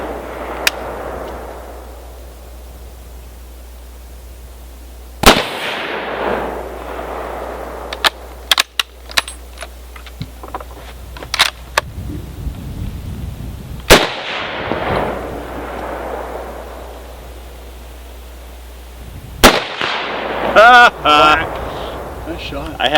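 Military rifles, an M1 Garand and a Remington M1917 Enfield, fire outdoors at a range. Three loud, sharp blasts are widely spaced among quieter clicks and handling sounds, with someone talking in between.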